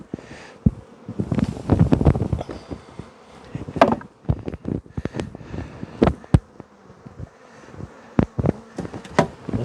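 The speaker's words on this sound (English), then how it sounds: "It's just covered in bees." Honey bees buzz around a nuc box, irregular close passes of individual bees droning loudly past the microphone amid a fainter swarm hum and light rustling.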